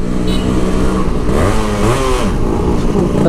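Yamaha RX135 two-stroke motorcycle, restored, revving loud and close, its pitch rising and falling through a short burst of throttle with a buzzing, rasping tone throughout.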